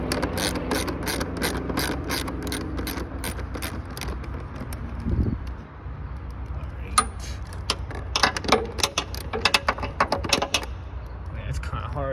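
Socket wrench ratcheting a bolt on the air filter box of a 2006 Lexus ES330, a run of rapid close clicks, pausing midway and then resuming in quicker bursts, with faint mechanical handling noise.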